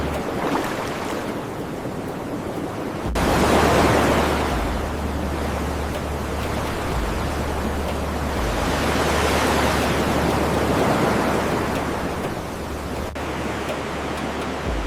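Ocean surf rolls steadily onto a volcanic sand beach, a loud continuous wash of breaking waves that swells and ebbs in broad surges, with no voices over it.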